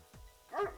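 Two quick, faint dog-like barks from the video game BARQ, played as comical bark-fart sound effects, the second slightly louder and higher.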